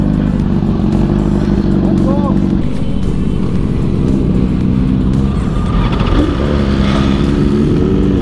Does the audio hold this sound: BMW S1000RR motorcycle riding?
yes